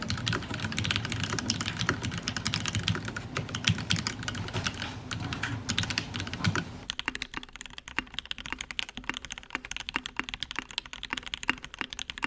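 Fast typing on a Jane V2 CE mechanical keyboard, with dense, clean clacking keystrokes and spacebar hits, close and steady, turning sparser and quieter halfway through.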